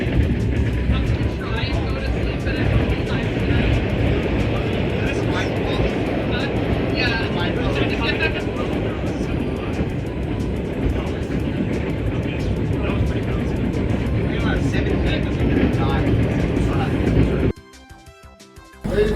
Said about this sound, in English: I'm so relieved we're on a train right now.